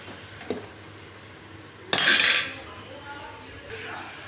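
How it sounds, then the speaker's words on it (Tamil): Cauliflower pieces tipped into a cooking pan with onion, tomato and ginger-garlic paste, a loud clattering tumble with a burst of sizzle, preceded by a small metallic knock and followed by a lighter scrape. "இந்த ஸ்டேஜில் நம்ம காலிஃப்ளவர் போட்டுக்கலாங்க"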